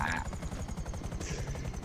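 Helicopter rotor chopping steadily in a multiplayer video game, a dense rhythmic thrum close and loud, with gunfire-like crackle and brief shouted voices mixed in.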